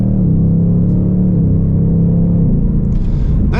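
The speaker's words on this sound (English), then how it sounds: "It's way more fun to just actually listen to this. Light throttle." A Ford Mustang Mach 1 V8 at light throttle, a loud steady low rumble with a slight rise and dip in pitch, close up and alone.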